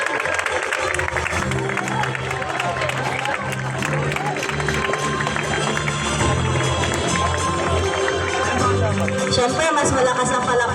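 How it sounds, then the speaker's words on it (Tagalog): Audience applause at a taekwondo graduation ceremony, steady clapping and crowd noise filling the hall, loud and continuous with some cheering and music-like tones underneath. "Siyempre, mas malakas ang palakpak dito."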